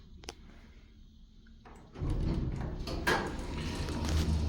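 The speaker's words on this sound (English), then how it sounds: "I'll go ahead and open the door again." A counterweighted door on an Otis Series 5 hydraulic elevator at an Elk's Lodge opens with a click, then a loud rolling rumble and mechanical clatter that keeps running.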